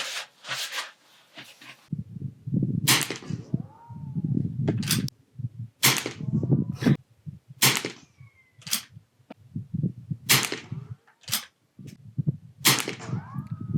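Sharp, cracking shots ring out at a shooting range from a BSA Martini International Mark II rifle, the single reports spaced a second or two apart amid low background rumble and movement.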